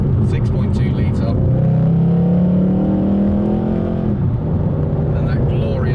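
A Mercedes C63 AMG Black Series with its M156 6.2-litre V8 revs from inside the cabin on a motorway, a deep rising drone swelling and easing back, steady and close throughout.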